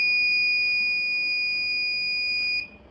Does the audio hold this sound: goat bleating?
no